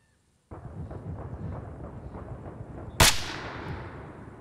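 A single sharp gunshot cracks out in the military shooter Arma Reforger, loud and close, with a long rolling echo trailing off after it over a steady rumble of game background noise.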